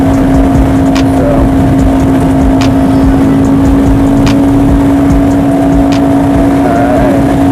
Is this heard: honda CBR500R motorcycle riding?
yes